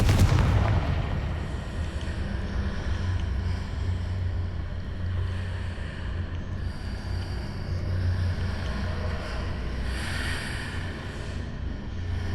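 Fire-spell explosions in the Hogwarts Legacy video game: a loud booming blast at the start rolls into a sustained rumbling, crackling wash, with another surge of bright burst texture near the end.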